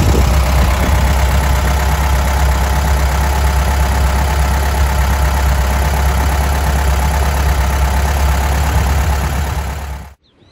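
An air-cooled Volkswagen Beetle (Fusca) 1300 engine idles close up with a steady, loud, even chug, then cuts off abruptly near the end.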